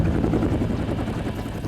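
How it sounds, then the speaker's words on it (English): A helicopter's steady rotor thumping and engine drone, heavy and low, filling the short stretch without voices. "approaching him with a helicopter"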